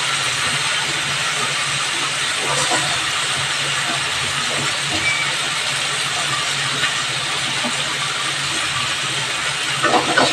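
Bele fish going into hot spiced oil in a pan for a home-cooked Bengali dish, with a steady, close, broadband sizzle and hiss that holds through the whole stretch and swells slightly near the end.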